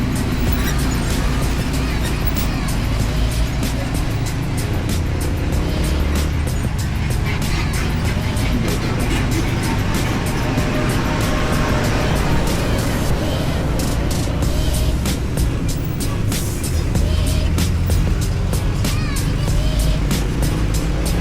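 Large trucks rumble past on a rough, potholed highway, heard from a motorcycle on a long ride, with steady loud engine and wind roar throughout.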